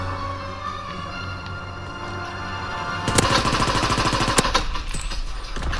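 An M1941 Jawbreaker fires in Call of Duty WW2, opening after a quiet stretch into rapid, loud automatic bursts with a sharp rattling rhythm over a low background hum.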